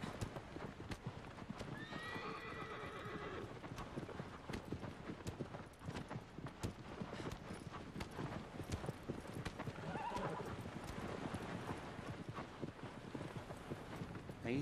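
Steady galloping horse hooves in the video game Shadow of the Colossus, a continuous rapid clip-clop rhythm with a couple of neighs, set against the game's ambient sound, with no talking.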